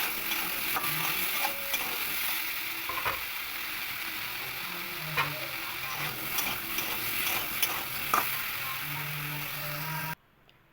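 Green banana cooks in a pan with salt and turmeric, giving a continuous sizzle under repeated scraping and clacking spatula strokes until it stops abruptly near the end, with no voices.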